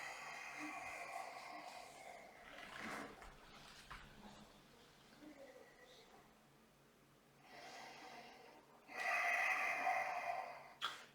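During a Pilates exercise on a swiss ball, close breathy exhalations and snort-like breaths come in several soft bursts, the strongest near the end, with a faint voice coaching in between.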